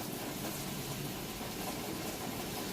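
A Whirlpool Cabrio Platinum top-load washer running its rinse cycle, giving a steady, even hum and swish that holds at a constant level without a break, with no voices.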